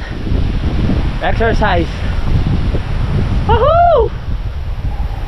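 Strong wind blows outdoors, producing a steady, loud rumbling roar and buffeting against the microphone throughout, while a voice calls out over it.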